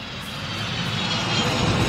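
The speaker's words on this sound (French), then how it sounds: "Il y a du bruit autour de vous. On est près d'un aérodrome." Steady roar of aircraft engines near an airfield, broad and continuous with a slight swell, loud and close with no other sound standing out.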